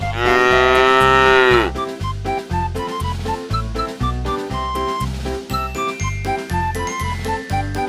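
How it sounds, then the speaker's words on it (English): One loud, long cow moo opens, then a bright, rhythmic jingling melody with a steady beat takes over and keeps going. "cow"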